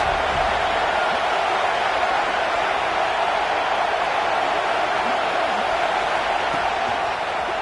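Stadium crowd in College Football 26 roars steadily as a dense, continuous wash of cheering noise, loud and unbroken throughout with no distinct voices standing out.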